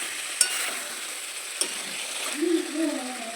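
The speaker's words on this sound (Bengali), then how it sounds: "এবার আমি কষাতে থাকবো।" Fried chicken and potatoes being stirred and sautéed in a pan, a soft continuous sizzle with two sharp utensil clicks against the pan and a brief voice murmur near the end.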